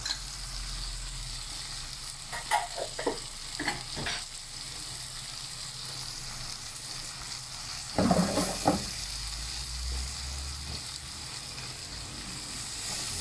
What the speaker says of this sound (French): On peut bien mijoter nos oignons.